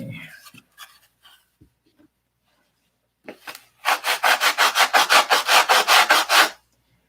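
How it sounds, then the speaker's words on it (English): A wooden hand plane is sanded by hand in a quick run of about fourteen rhythmic back-and-forth strokes, loud and close, after a few faint scattered scrapes and a pause. "I sanded it too far."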